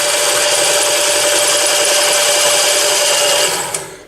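A screw being tightened into the aluminium body of a China clone carburetor on a 1974 Honda XR75 makes a loud, close, continuous grinding whir for about three and a half seconds before winding down and stopping.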